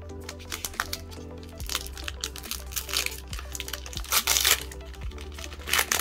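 Foil card packs of Pokémon Eevee Heroes being torn open by hand, loud close crinkling and ripping in continuous bursts with sharp cracks, no speech.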